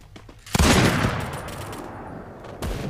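A sharp burst of rapid gunfire erupts and trails off into rumbling echoes, followed by another shot near the end.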